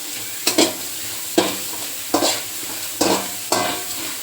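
Pakora batter sautéing in a pan over a low flame, a soft continuous sizzle broken by five distinct scraping stirs of a spatula at roughly regular intervals, close up.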